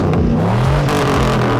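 Car engine revving hard at a Cars & Coffee meet, loud and close, the pitch sweeping up and down through several quick throttle blips over a steady mechanical roar.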